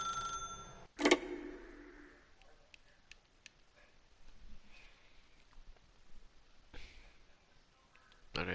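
A telephone rings in The Stanley Parable, one sharp burst of ringing right near the start, followed by quiet room tone with faint scattered ticks and a second soft burst near the end.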